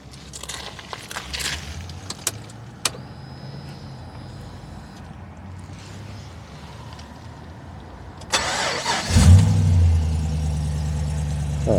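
A Holden SSV ute with a 6-litre V8 turns over and fires, the engine suddenly catching into a loud, steady idle after a quiet stretch of faint handling noises and a brief tone.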